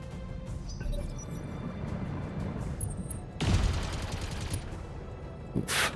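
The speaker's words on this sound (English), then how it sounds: "He's gonna machine gun me." Gunfire from a mech battle in the modded Battletech game, a dense rattling burst of shots lasting a couple of seconds amid a low rumbling backdrop, followed by a sharp boom near the end.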